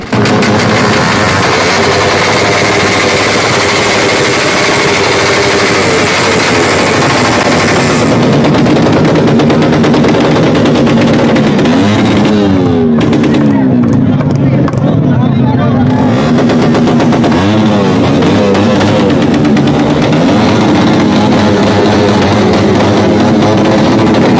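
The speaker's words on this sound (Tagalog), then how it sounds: "dito nga mag-uumpisa ng mga bombahan, kaya pakinggan nyo" Motorcycles revving loud, aggressive exhausts at an outdoor motor show in Bugallon, with continuous rapid popping and crackling bursts, very loud and close, and engine pitch sweeps rising and falling, along with crowd noise.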